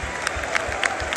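A football crowd in a stadium applauds a substituted player during Southampton versus Everton. The clapping is a steady, distant wash with a few sharper claps standing out.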